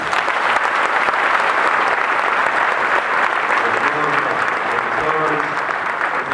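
Loud, sustained applause from a large audience at a church congress fills the whole stretch, dense and continuous without pause.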